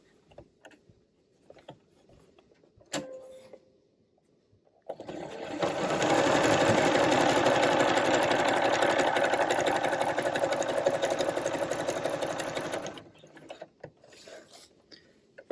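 A sewing machine stitches with a zigzag foot, running steadily and loudly for about eight seconds with a fast mechanical whir, framed by quieter handling clicks before and after.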